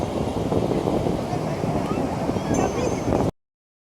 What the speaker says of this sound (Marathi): बघा लाट आलेलीच आहे